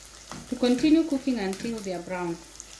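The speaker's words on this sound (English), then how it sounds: "I'll allow the onions to continue cooking until they are brown" Onions frying in a pot while cooking a Kenyan beef pilau, a soft steady sizzle running beneath a voice speaking close by.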